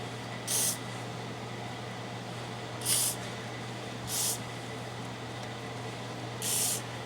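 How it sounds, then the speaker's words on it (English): Short hissing bursts of a water spray hosing down rusty seating parts, four separate sprays a couple of seconds apart over a steady low background hum. "So I'm just going to spray all this down."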